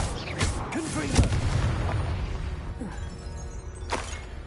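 A Confringo blasting spell in Hogwarts Legacy bursts with a heavy booming explosion, then rumbling bangs and sharp pops trail off amid combat effects and a voiced exclamation.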